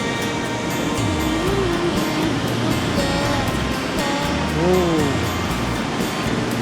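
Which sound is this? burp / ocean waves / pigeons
ocean waves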